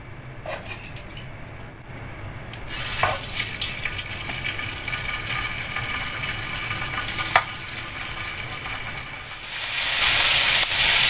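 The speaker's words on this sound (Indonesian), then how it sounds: "Kita panggang pelan-pelan pakai minyak dikit aja" Chicken frying slowly in a little oil gives a steady hiss and sizzle, with a few clinks and bumps. The sizzle grows louder near the end, and no one talks.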